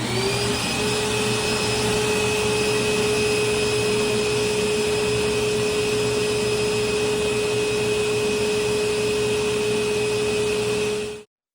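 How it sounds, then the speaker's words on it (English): A buffing wheel spins steadily with a constant whine and hum while a Petersen 406 pipe is polished using tripoli compound, loud and close without a break, then it cuts off abruptly at the end. "let's do a little buffing and we'll see how it looks from there"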